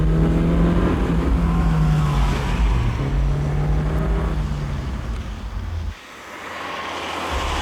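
A turbocharged 1980s Saab accelerating hard from standstill to 100 km/h, engine note climbing through the gears with a brief shift gap near the end, loud and close from inside the car.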